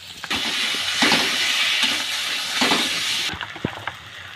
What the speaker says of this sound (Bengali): এখন করে মশলা বাটা জল দিয়ে অল্প করে তেল দিয়ে কষিয়ে নেব।